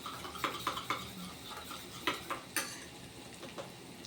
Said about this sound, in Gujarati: અડધો કપ દહીં છે, એને આપણે આવી રીતે ફેટી લેવાનું પહેલાં।